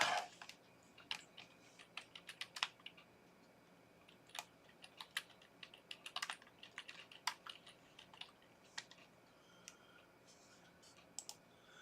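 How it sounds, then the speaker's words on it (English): Fingers type on a computer keyboard in quiet, uneven bursts of light key clicks with short pauses between them, heard fairly close but soft. "I'll type that in and see what."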